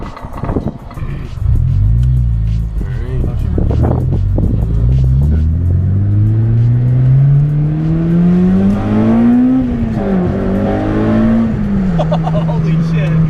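A Honda Civic EP3 Type R with its muffler deleted revs hard, the raw exhaust note climbing and dropping in long loud sweeps, with crackling backfire pops between revs and excited voices now and then.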